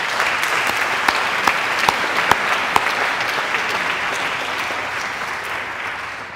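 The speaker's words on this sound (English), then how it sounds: "I want to stop for a moment and applaud all of you and thank you for your service." An audience at an educators' awards event applauds steadily, a broad wash of many hands with a few crisp nearby claps on top, holding even throughout.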